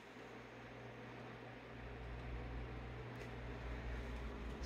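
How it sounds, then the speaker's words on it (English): An electric fan runs steadily nearby, a constant broadband whoosh over a low hum that holds level throughout with no one speaking. "Sorry about the fan, guys."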